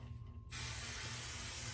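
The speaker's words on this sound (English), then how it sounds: "And just spray the heck out of it." A can of basting spray hisses onto a quilt in one steady, loud, continuous burst that starts abruptly after a quiet moment and holds without a break.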